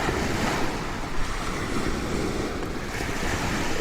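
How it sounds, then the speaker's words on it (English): Ocean waves wash steadily onto a beach at sunset, a continuous roar of surf with gentle swells in the rhythm, mixed with some wind buffeting the microphone. "Feeling the rhythm of the waves here."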